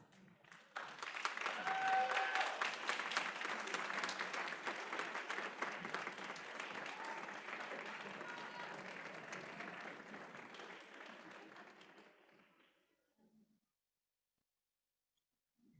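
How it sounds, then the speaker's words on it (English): Loud applause from an audience at a registered nursing pinning ceremony at North Idaho College, sustained for about twelve seconds before fading out into silence. "give them a round of applause"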